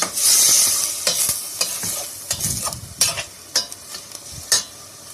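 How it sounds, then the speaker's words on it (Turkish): Pieces of meat sizzle in a hot pan while a utensil scrapes and stirs in repeated strokes, with soft crackling throughout, browning meat for an okra stew. "bu şekilde güzel güzel et soteliyorum"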